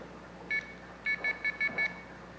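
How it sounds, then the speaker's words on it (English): Coin tone from a payphone's oscillator signalling an inserted quarter: one short electronic beep, a pause, then five quick, evenly spaced beeps, clean and alone over faint line hiss. "when a quarter is inserted into this payphone, the totalizer detects that and it triggers the coin tone oscillator"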